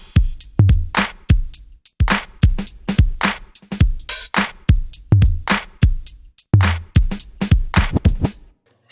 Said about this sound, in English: we're going to be making a hip-hop R&B based drum loop